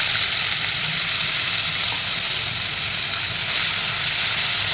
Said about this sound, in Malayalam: അപ്പോൾ അത് നമുക്ക് നല്ല വെളിച്ചെണ്ണയിൽ ഒന്ന് ഗോൾഡൻ കളറാവുന്ന വരെ ഒന്ന് വറുത്തെടുക്കാം.